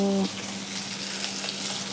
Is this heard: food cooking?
yes